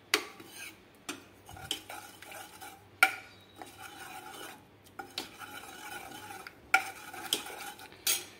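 Cooked toor dal being mashed in a pot, heard as repeated sharp metal-on-pot knocks and scraping strokes at a steady, uneven rhythm, close by with no talking.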